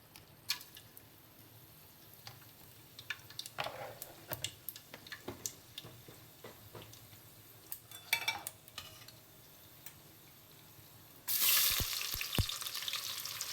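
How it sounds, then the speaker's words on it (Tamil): Cinnamon, cloves and cardamom fry in oil in a pan with a low, steady sizzle, punctuated by light ticking stirs, before a louder burst of frying near the end. "இப்போ நம்ம ஸ்பைசஸ்லாம் வந்து போட்டுக்கலாம். பட்டை, கிராம்பு, ஏலக்காய்."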